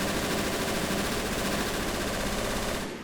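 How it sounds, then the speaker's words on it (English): Machine guns fire from bunkers in Men of War: Assault Squad during the D-Day Normandy beach landings of 1944, a dense, unbroken roar of automatic fire that runs for about three seconds and then tails off, with no voices. "MGs are firing from the bunkers."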